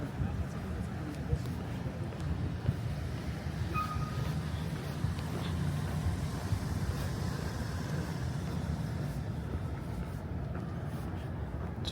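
A Manhattan subway train rumbles and rattles continuously at fairly close range, with faint wheel squeals over the low roar.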